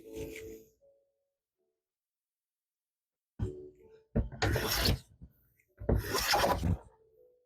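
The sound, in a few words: hand plane shaving wood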